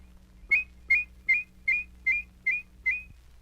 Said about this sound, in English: With a fast la-la whistle, you can produce two notes so closely they sound in harmony